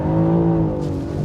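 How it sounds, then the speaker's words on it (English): A 2025 BMW M4 CS exhaust gives a loud, steady droning note close by. The burst is brief and sounds on its own. "Oh, also exhaust sound. This sounds really good. It's loud."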